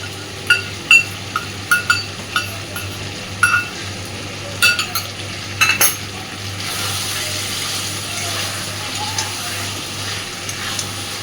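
A spoon repeatedly scrapes and clacks against a pan while potatoes fry with a cashew and melon seed paste for Kashmiri aloo dum, the sharp knocks coming in uneven bursts over a soft, steady sizzle.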